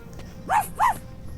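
Two short, bright yips from a small cute dog in the fantasy action game Rangers of Oblivion, about a quarter second apart, close and clear over a low ambient hum with no talking.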